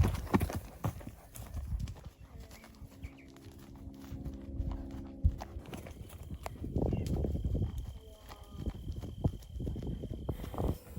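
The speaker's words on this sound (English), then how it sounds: "Trying to get a few better lopes in." A mustang's hooves clip-clop in a steady loping rhythm under saddle, close and fairly loud, with quieter outdoor background between the hoofbeats.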